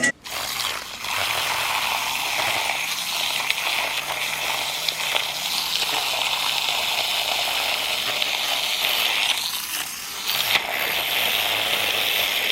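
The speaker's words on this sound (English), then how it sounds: "that's when I grab the electric whisk like this" An electric whisk whips dalgona coffee in a bowl with a steady, continuous whirring buzz that runs close and loud for the whole stretch, dipping briefly near the end before resuming.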